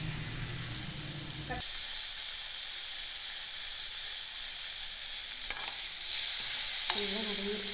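Chili, onion and tomato sautéing in a pan for a peas masala, giving a loud, steady hiss of frying that runs continuously throughout, with a brief pause in the middle and faint clicks of stirring.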